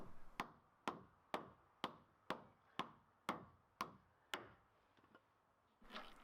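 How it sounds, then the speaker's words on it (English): Nine evenly spaced hammer strikes drive bolts into concrete, sharp and solid with a short ringing tail, landing roughly every half second, then a pause and some shuffling. "I can get these bolts whacked into place"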